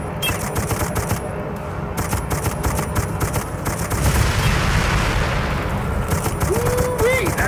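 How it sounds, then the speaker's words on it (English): Sustained gunfire in the World War I shooter Darkest of Days, with dense rapid bursts of shots from a Zeppelin battle against German troops. The shots run loud and continuous throughout, with no speech. "Fire for effect. Hit the hydrogen tanks."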